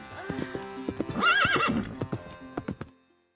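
A horse neighs with a rising, wavering whinny in the middle while steady clip-clop hoofbeats sound before and after, close and fairly clear in an outdoor medieval-style riding scene, fading out at the end.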